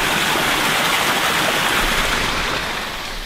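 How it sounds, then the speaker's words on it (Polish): Loud, close rushing water of a mountain stream in a forest on Japan's Kunisaki Peninsula fills the clip with a dense, steady hiss and gurgle, easing slightly at the end. "Tu jakiś strumień też tam słyszę."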